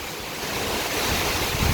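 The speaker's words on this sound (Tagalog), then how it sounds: "Ang lakas ng hangin." Strong typhoon wind from Typhoon Carina roars steadily through the whole clip, a broad blustery rush with gusts swelling louder toward the end, no voices.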